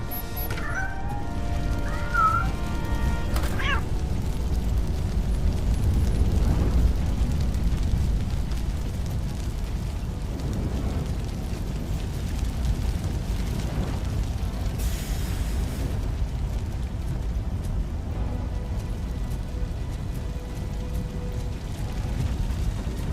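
Blazing fire in the video game Robocop: Rogue City roars as a dense, continuous rumble, loud and steady throughout with no voices over it.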